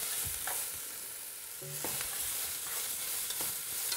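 Leeks sweat in fat in a stainless steel pan, giving a soft steady sizzle with occasional stirring scrapes, close and fairly quiet, with no talking.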